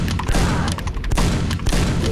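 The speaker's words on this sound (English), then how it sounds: "I remember these guys shoot some kind of explosives." Enemies firing explosives in a castle level of Quake, producing a dense, loud series of booming blasts and thuds repeating in quick bursts across the whole moment, nobody talking.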